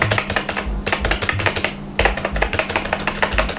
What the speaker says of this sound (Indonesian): Nah, ini bunyinya cetak-cetuk gitu, jadi rasanya hampir seperti mechanical keyboard.